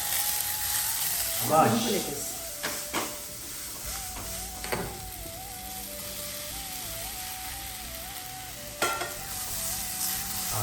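Asafoetida and curry leaves sizzle in hot oil while tempering mani kozhukattai sundal, a steady frying hiss with stirring clatters and a few sharper bursts, close by, with voices in the background.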